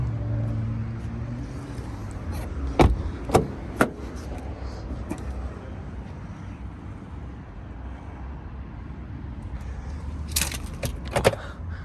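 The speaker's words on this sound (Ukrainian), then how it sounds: "До речі, два ключики має ця машинка." Keys for a 2011 Volvo V50 1.6D jangle in a few short, sharp bursts near the start and again near the end, close by, over a quiet background with faint roadway noise.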